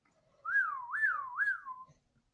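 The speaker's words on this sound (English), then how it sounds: "and then you hear a whistle" A person whistles a three-part rising-and-falling call, each swoop sliding up then down in a smooth rhythm, fairly close and clear against a quiet background.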